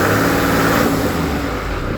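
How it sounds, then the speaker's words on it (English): A car engine revs loudly at high RPM, then the roar falls away quickly as the revs drop and the engine begins to die, close and unbroken with no talk. "If I just bring it up high speed, high RPM, and bring it down, it stops."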